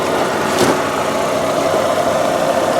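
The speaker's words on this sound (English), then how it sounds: "the heart and soul, of course, of any vehicle is this part right here, the engine and the transmission" A 1998 Saturn SL1 engine idles steadily nearby, a constant mid-pitched hum and rumble with a faint rhythmic knock, no speech.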